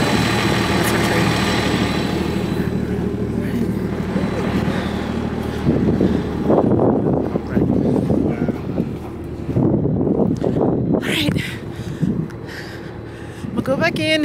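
A low train engine idles steadily throughout at the Broadmoor Manitou and Pikes Peak railway, with wind buffeting the microphone and people talking over it.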